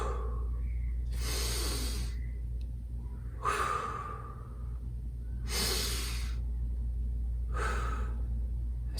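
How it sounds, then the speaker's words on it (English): Four slow, deep breaths, each a soft airy inhale or exhale spaced a couple of seconds apart, close and quiet against a faint steady hum. "the first thing you need to do is take 3 deep breaths"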